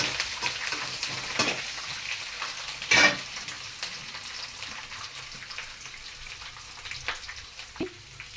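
Sesame seeds crackle and sizzle in hot oil in a pan alongside curry leaves and garlic, a steady broadband fry with scattered pops and one louder burst of spattering partway through, no voices.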